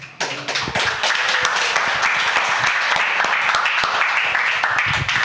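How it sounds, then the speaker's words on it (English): An audience at a SpeakuP Monday event in the Rainforest Pavilion breaks into a round of applause, dense and loud from start to finish, with scattered sharper claps standing out from the steady wash. "Round of applause, guys."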